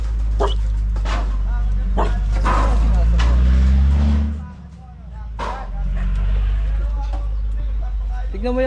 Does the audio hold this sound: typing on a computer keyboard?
no